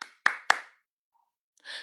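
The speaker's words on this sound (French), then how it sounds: "applaudissez pour Monica" Two sharp hand claps ring out close together, followed by silence and then a brief burst of softer clapping, applause for Monica.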